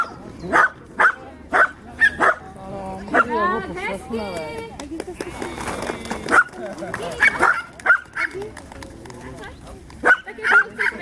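Dogs bark in loud, sharp bursts repeated throughout, some close and some farther off, with whimpers and yips mixed in under people talking at an outdoor dog-training event in a grove.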